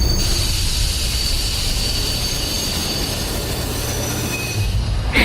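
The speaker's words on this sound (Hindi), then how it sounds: "ट्रेन स्टेशन पर आकर रुकती है।" A train rolls into a station and slows to a stop, a loud steady rumble of wheels on rails carrying a sustained high metallic squeal throughout, close and continuous.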